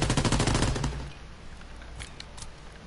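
A Savior variant gun fires rapidly in the World War II shooter video game Call of Duty WW2. A fast, loud burst of shots lasts about one second and then fades into scattered distant gunfire.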